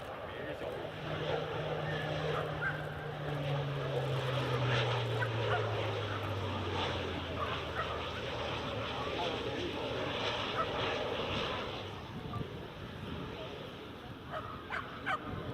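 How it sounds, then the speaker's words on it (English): A Pilatus PC-12 turboprop draws closer at an airfield, a steady engine drone with a slowly falling pitch against broad background noise and breeze. "Here comes the PC-12"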